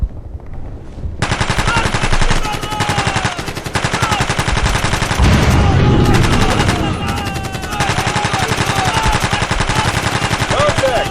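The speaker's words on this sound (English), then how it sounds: "Contact! Now 3 line! Automatic fire!" Automatic gunfire hammers away at a trench line in a war setting, rapid bursts rolling almost continuously, loud and close, with a short lull before the shooting resumes.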